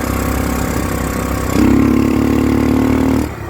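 A restored Honda XL250 motorcycle engine runs steadily, then its pitch and loudness jump into a stronger, even drone after the choke is pushed off before cutting out near the end.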